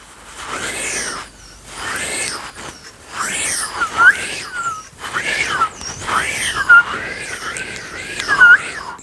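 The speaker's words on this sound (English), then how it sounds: "we're gonna move the edges of the mouth like so and look for the whistle" Breathy palate whistle made by shaping the edges of the mouth, a series of wavering, warbling airy whistles in separate bursts, close and fairly loud, with no speech.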